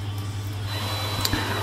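A drill fitted with a hard carbide cutter grinds down a metal frame for an RC45 replica motorcycle build, with gravity-fed coolant running. It gives a steady, close whirring grind over a low hum, with a couple of sharp clicks near the end.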